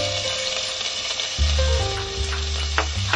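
Spring onion sizzles in hot oil in a pot, a steady close frying hiss with low stove hum underneath and a few light stirring clinks, no voices.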